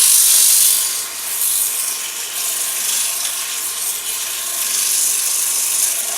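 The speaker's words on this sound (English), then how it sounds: "Sanding I hate to do," Sandpaper rubs against a wooden piece spinning on a lathe, giving a continuous hissing scrape with a steady motor hum underneath, swelling and easing slightly as pressure changes.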